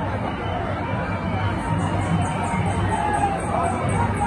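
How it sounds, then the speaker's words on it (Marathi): Dense crowd of devotees at the Lalbaug Cha Raja Ganesh visarjan, a steady close wash of overlapping chatter and murmur with no single voice standing out, continuous and fairly loud throughout. "आता ह्या गर्दीत उभा आहे।"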